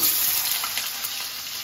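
Potato slices sizzling and crackling in hot oil in a pan, a steady, bright frying hiss with no talk.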